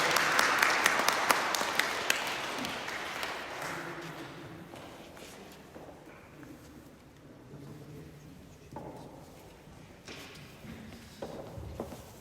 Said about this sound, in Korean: 들어가실 때 다시 한번 박수로 격려해 주시면 좋겠습니다